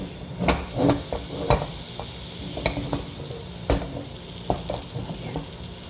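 Onion frying in melted butter in a pan produces a steady sizzle broken by repeated clacks and scrapes of a spatula stirring at a moderate pace, with no speech.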